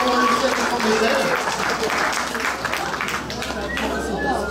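Crowd applause for cosplay winners on stage at the Auxerre Galactic Days 2022 cosplay contest: a broad wash of clapping over constant hall noise and a low hum, with voices mixed in.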